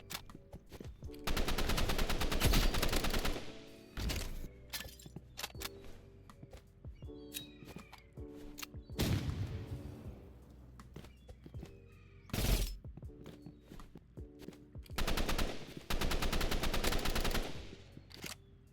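Gunfire in the video game Rivals, with rapid bursts of automatic fire and single sharp sniper-like shots in clusters, loud and close, separated by quieter stretches.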